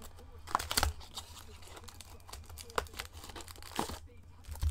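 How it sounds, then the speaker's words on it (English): Plastic wrapper on a box of CFL football trading cards being torn and crinkled open close by, with irregular crackling rips and rustles over a quiet room background. "And then I'm going to open this one before I cut myself."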